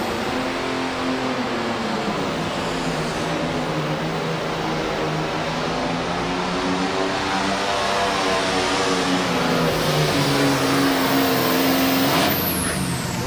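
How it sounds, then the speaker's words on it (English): A John Deere 4010 tractor engine roars and revs hard at a farm tractor pull, a loud, continuous droning growl whose pitch shifts up and down over thirteen seconds, with no talk. "Up next, the 4010 John Deere, Jimmy True, out of Frankfort, Kentucky."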